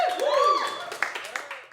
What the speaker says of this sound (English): get a round of applause going for Brendan Lemon